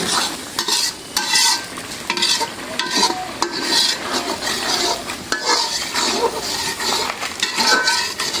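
Ginger-garlic paste fries and is stirred in a pot of prawn biryani, a loud steady sizzle broken by repeated scraping and clinking of a metal spoon against the pot, close and continuous with no talk.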